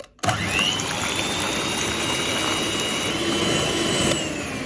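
An electric mixer whirs steadily at high speed, a continuous buzzing drone beating cream, with no voices.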